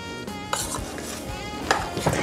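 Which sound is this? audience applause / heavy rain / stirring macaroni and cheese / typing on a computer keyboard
stirring macaroni and cheese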